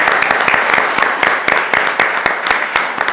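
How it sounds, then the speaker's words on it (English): Applause at a town board meeting, a loud, close burst of many hands clapping steadily throughout with a few sharper individual claps. "Can we take a moment to give a round of applause to those winners there and the department heads who helped make that happen?"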